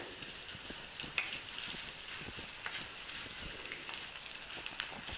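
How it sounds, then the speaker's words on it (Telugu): Dried red chillies, green chillies and curry leaves crackle in a hot tempering for ghee pongal, a continuous fine sizzle with faint stirring clicks, steady and moderately quiet, no talking. "ఎండుమిర్చి, కరివేపాకు వేసుకొని బాగా కలుపుకుందాం."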